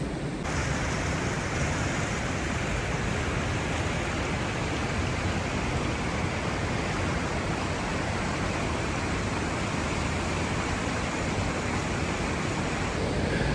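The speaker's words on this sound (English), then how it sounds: "the cave, the water comes up from the ground and then powers its way down here" Seawater rushes and churns loudly through a sea cave, welling up from below and forcing its way down, a dense, continuous roar that stays steady and close throughout, with no voices.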